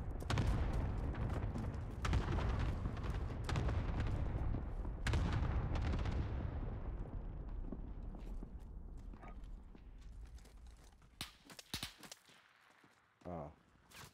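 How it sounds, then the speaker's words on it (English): Bursts of gunfire and heavy booms in Call of Duty: Warzone fill the first half, then thin out into scattered distant shots and movement noises, fairly quiet overall. "there's gunshots by me"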